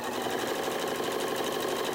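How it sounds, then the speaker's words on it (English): A sewing machine runs fast and steady while stitching a quilt block, giving a close, even mechanical whir with a rapid needle rhythm throughout. "So let me see if I can just quick sew this."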